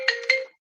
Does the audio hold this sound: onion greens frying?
no